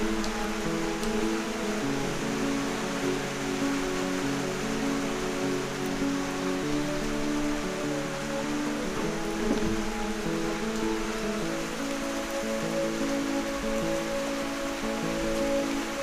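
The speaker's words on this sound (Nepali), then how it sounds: "अहिले अलिक कम भएछ पानी" Steady rain falls on open farm fields, a constant dense patter that stays even and unbroken from start to finish with no voices.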